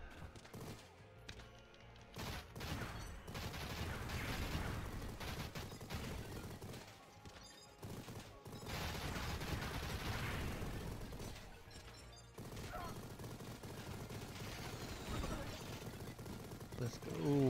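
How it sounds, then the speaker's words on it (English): Machine gun fire in the video game Mighty Goose, loud rapid bursts and fusillades broken by brief pauses, with explosions and game effects mixed in. "Machine gun"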